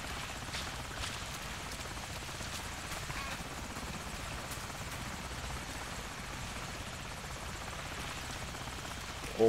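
A helicopter in Call of Duty 4 holds a steady, droning rotor roar with a dense, even wash of noise that barely changes throughout.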